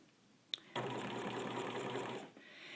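A sewing machine stitches an applique quilt in one steady, rapid run of about a second and a half, close and clear after a brief click, then stops.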